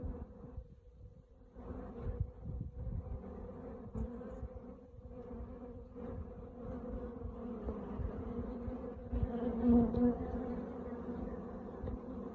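Honey bees buzz steadily around production hives in a woodland apiary, a dense close swarm hum continuing throughout with a slight swell toward the end.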